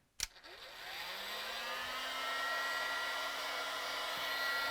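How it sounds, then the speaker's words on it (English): A heat gun set to about 650 degrees, used to warm a refrigerator freezer door rubber gasket, clicks on and spins up into a steady, loud whooshing whir of blown hot air that continues without pause. "you need to use the heat gun or blow dryer"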